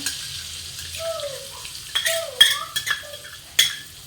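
Crushed garlic goes into melted butter in a pan, giving a soft sizzle broken by sharp clinks of a utensil against the pan, close and fairly quiet, with no talking.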